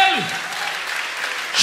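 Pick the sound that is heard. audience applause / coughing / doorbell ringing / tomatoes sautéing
audience applause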